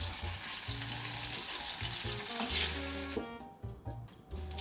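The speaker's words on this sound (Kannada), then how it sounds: "ಬಾಣಲೆಗೆ ಹೆಚ್ಚಿದ 2 ಈರುಳ್ಳಿಗಳನ್ನು ಹಾಕಿ ಸಣ್ಣ ಉರಿಯಲ್ಲಿ ಕೆಂಪಗಾಗುವ ತನಕ ಹುರಿಯಿರಿ" Onions sizzle and fry in a pan on low heat while cooking green tomato chutney, a steady close crackle with occasional scraping stirs, under a continuous background music bed.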